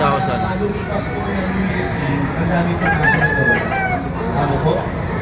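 A white-legged gamefowl rooster crows nearby at a gamefowl expo over chicken clucks and farmyard noise, while someone talks over the birds.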